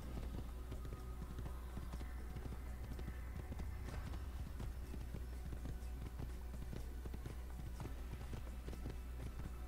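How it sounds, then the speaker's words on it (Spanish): A horse in Assassin's Creed clip-clops along at a steady, continuous pace on the way to Acre, its hoofbeats even and unbroken under a constant background hum, with no voices. "Pinche caballo."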